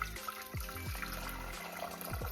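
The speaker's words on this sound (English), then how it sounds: "Alright, so I'm gonna add some hot water" Hot water poured into a cooking pot to boil franks for homemade corndogs, a continuous splashing, gurgling flow close by with a few sliding pitch sweeps as the pot fills.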